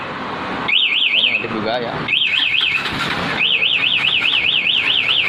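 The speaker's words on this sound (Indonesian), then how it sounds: "maka alarm akan berbunyi keras dan motor tidak bisa dihidupkan sama sekali seperti ini" Security alarm fitted to a Honda Tiger Revo motorcycle sounds loudly in repeated warbling siren bursts, pausing briefly between them, with someone talking underneath.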